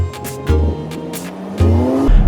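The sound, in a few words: cars racing, tires squealing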